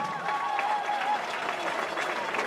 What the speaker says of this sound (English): let's give all of these Yellow Jacket legends a big round of applause